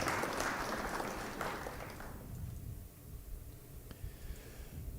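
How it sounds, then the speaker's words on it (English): Audience applause at a challenge match, a moderate wash of clapping that fades after about two seconds into quieter room noise with a few scattered claps. "That one deserves a round of applause."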